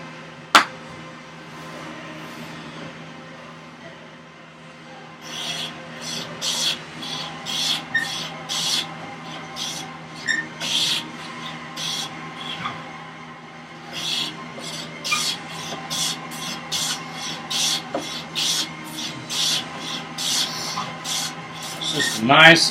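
A hand tool cuts a bevel chamfer on a wooden vise chop for a workbench, giving steady, repeated rasping strokes of moderate loudness throughout.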